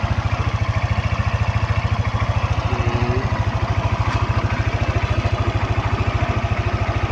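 Yamaha NMAX scooter idling steadily after a cylinder block replacement, a smooth, even low putter with a fast regular pulse running throughout, close and moderately loud, with no voices.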